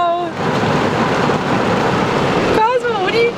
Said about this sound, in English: We are caught in a downpour right now.